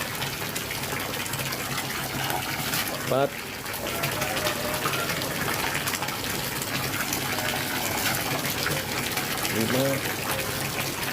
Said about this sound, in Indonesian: saya kasih pancuran.